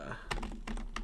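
Quick bursts of typing on a computer keyboard, several key clicks in close succession at moderate volume, nearby and with no speech.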